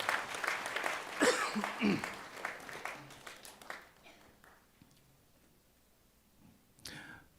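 Audience applause at a university graduation ceremony during a degree conferral. The clapping is fairly loud for about four seconds, then thins and fades to quiet, with a brief burst of sound near the end.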